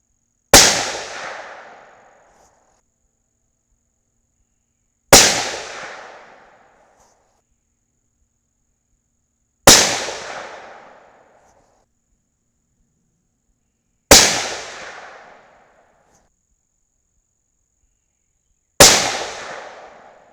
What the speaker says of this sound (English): So we'll start out with 5 shots.